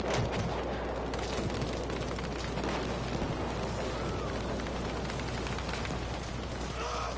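Gunfire rings down an alleyway during a video game battle, a dense, continuous barrage of shots and booming blasts. It stays loud and chaotic for the whole stretch, with the reports blurring into one another.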